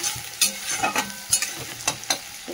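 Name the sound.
onion frying in oil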